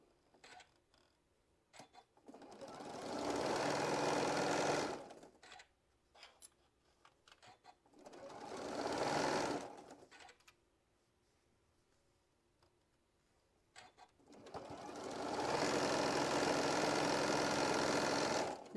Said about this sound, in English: doing our stitch all the way down